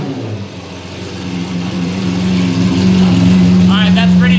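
Lamborghini Aventador engine building into a loud, steady rev, rising in volume over a few seconds with a strong low drone, close by, with voices talking over it near the end.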